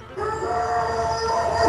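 A dog howls in a long, sustained, wavering tone that slowly bends downward, fairly close and loud, set against a room at a card game tournament, with no barking evident.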